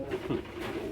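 Pigeons coo softly among the crowd at a Bangladeshi pigeon market, a brief, low, throaty coo heard faintly over background murmur.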